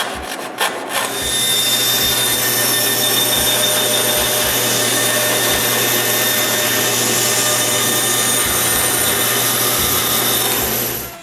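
A power tool, probably a router, cuts an MDF template in a woodshop. The loud, steady whine and rasp holds for about ten seconds after a few sharp knocks at the start, with low thumps underneath.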